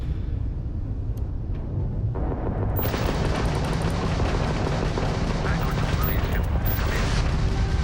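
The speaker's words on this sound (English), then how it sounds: "If you stop shooting at us, we'd be more than happy to respond." Spaceship weapons fire in the Starfield space game as a dense, continuous barrage of blasts and booms. It starts as a low rumble and grows into loud, crackling gunfire that runs through to the end.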